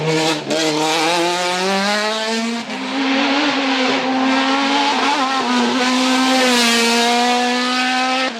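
A Tatuus Formula Master single-seater racing up a hill climb course, its engine wailing at high revs close by, pitch dipping briefly at gear changes before climbing again, loud and sustained.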